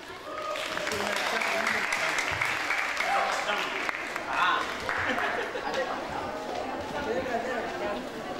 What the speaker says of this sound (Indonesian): beri tepuk tangan lagi untuk penampilan kedua dari SMK